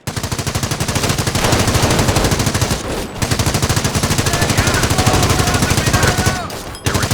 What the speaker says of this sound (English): The MG emplacement is suppressing the enemy troops.